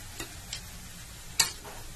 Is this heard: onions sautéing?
yes